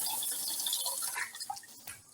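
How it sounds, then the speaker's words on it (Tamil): Water is poured from a vessel over green gram in a bowl to soak it, a close splashing trickle that tapers off and stops near the end. "பச்சைப்பயிறு முழுகிற அளவுக்கு தண்ணி ஊற்றியாச்சு."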